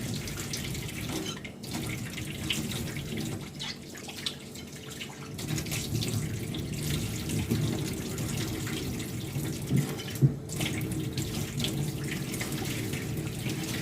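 Tap water runs steadily into a sink while raw chicken is washed, a continuous splashing flow with small shifts in spatter and a brief sharper splash near the end.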